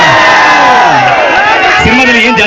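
A crowd of college students cheers and shouts loudly at a film promotion event, with a dense, continuous roar of voices and whoops filling the space.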